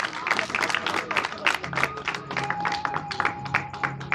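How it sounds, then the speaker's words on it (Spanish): A church congregation claps and applauds for Jesus, dense rhythmic clapping from a crowd with a sustained musical tone and some voices underneath. "Vamos a aplaudirle a Jesús"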